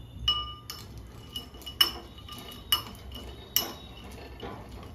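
A spoon stirring chocolate pieces melting in a bowl, several sharp clinks of metal against the bowl at irregular intervals over quiet background, close and clear with no talk.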